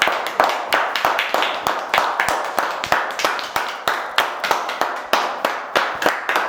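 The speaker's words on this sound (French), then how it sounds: "Vous pouvez tous vous applaudir très très fort." A small group applauds loudly and close by after a magic show. The claps are sharp and distinct, run steadily throughout and never swell into a dense roar.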